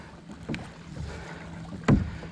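Pedal-drive flippers on a 2021 Hobie Mirage 360 PA14 kayak bump the bottom of the hull, giving two dull knocks about a second and a half apart over wind and water noise on open water.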